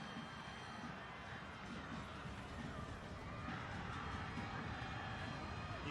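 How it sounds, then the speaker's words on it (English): Soccer stadium crowd during a penalty shootout in a USL Jägermeister Cup match between Hartford and Detroit, a steady distant roar of voices sustained throughout, with no single burst standing out. "You can hear the crowd urging Siaha on."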